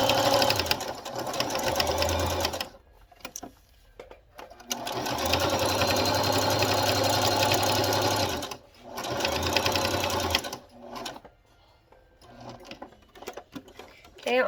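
A sewing machine stitches around a pot holder, running in loud steady bursts that stop and restart several times, with short gaps and a voice talking at times.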